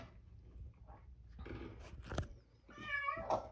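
A foster mother cat meows a few times, one fairly clear, drawn-out call standing out near the end amid soft rustling and handling noises close by.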